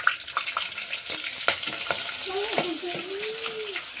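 Cloves, peppercorns and a bay leaf sizzle in hot oil for Hyderabadi chicken dum biryani, a steady close crackle broken by spoon scrapes and stirring knocks, with a brief wavering tonal sound partway through.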